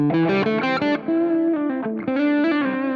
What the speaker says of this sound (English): Now we're going to hear the Bloomfield, the 2-rock.